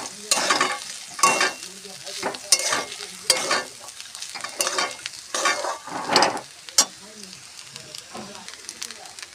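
Vegetable fried rice with peas and fried peanuts is stirred in a hot pan, giving repeated scraping strokes over a soft sizzle, with a voice talking throughout.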